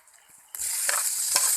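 Kathfula mushrooms with turmeric and salt start to fry in a pan. A soft lead-in gives way abruptly to a loud, close, continuous sizzle, broken by two scraping strokes of a spatula.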